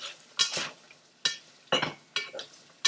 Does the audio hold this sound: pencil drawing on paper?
no